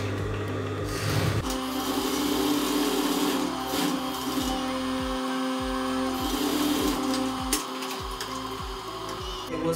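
A sewing machine stitches a French seam along the crotch line of homemade jogger pants, its motor whirring in repeated short runs with brief pauses between them, close and steady.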